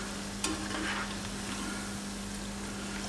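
Onion bhajis, a batch frying in hot oil over a gas flame: a steady close sizzle and bubbling hiss with a brief clink near the start and a low constant hum underneath, no talking.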